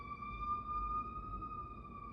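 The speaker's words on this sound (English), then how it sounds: "There's a siren." A distant siren holds a steady, faint tone, heard alone over low background rumble.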